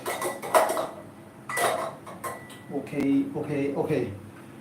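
Pots, pans and metal utensils clatter and clink in a home kitchen during South Indian vegetarian lunch cooking, with irregular bursts of clanging up close while a person talks intermittently.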